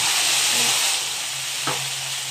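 String beans sizzle in rendered pork fat as they stir-fry for adobo, a bright steady hiss filling the pan, louder at first then easing, with a brief clatter of stirring near the end.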